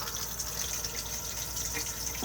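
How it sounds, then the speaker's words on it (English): A cassette toilet flushing inside an Elddis Majestic 180 caravan, a steady close rush of water running evenly without pause. "push the flush on the blue button"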